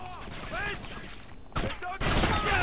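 Gunfire crackles in the game Kane & Lynch 2: Dog Days, with several bursts of shots amid a busy firefight, sharp cuts and louder passages near the end, and chirpy effects and background game sounds mixed in.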